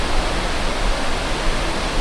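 Loud, steady roar of Tappiyah Falls near the Batad rice terraces, broadband and continuous, close by with no pauses or voices.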